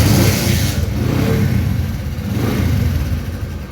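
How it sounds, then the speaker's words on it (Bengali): A 2018 Bajaj CT 100 motorcycle's engine is loud at the start, then settles into a steady mid-pitched running rumble that eases slightly in level partway through. "আমরা এখন গাড়িটির স্টার্ট দিয়ে আপনাদেরকে দেখাবো।"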